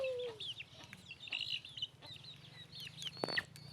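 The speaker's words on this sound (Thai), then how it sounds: "พวกไก่เขามาวนเรียนอยู่" Chickens cluck and chatter softly around the listener outdoors, scattered short calls with one sharper squawk near the end, fairly quiet overall.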